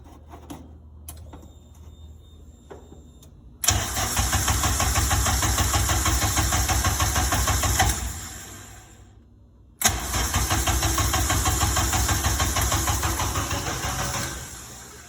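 A Honda K20 engine swapped into a VW Bug cranks and fires, settling into a loud steady idle, cuts out briefly, then restarts and idles again, heard up close after some faint clicking.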